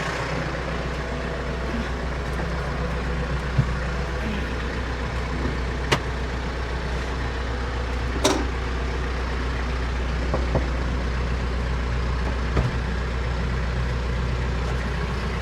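A TYM T574 tractor's diesel engine runs steadily at low idle while reversing in a garden, a constant deep rumble with a few faint knocks and clicks and no talking.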